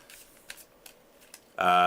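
Deck of 64 board game market cards riffled briefly in a few soft flicks, then a dense, loud burst of shuffling at the end.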